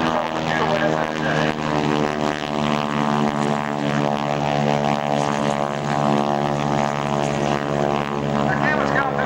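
A vintage SNJ propeller warbird drones steadily through a low airshow pass, its engine roar loud and continuous throughout with a slight rise and fall.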